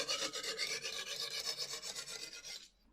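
A knife blade is drawn across a Lansky 120 grit sharpening stone held at 25 degrees, making a close, continuous rasping scrape in rhythmic strokes that stops abruptly at the end.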